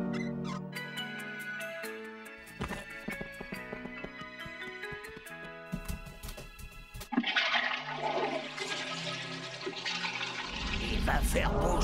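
A toilet flushes with a loud rushing, gurgling surge in the second half, following musical tones and brief voices.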